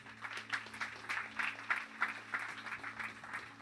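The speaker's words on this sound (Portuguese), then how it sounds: "Aplauda o Senhor aí." Steady clapping from a church congregation, a dense patter of hands with rhythmic pulses, moderately loud and continuing throughout.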